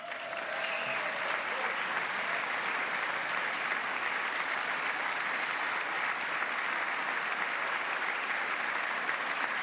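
Audience applause, steady and sustained throughout, dense and even at moderate distance, from a crowd standing and clapping during a political speech by a president.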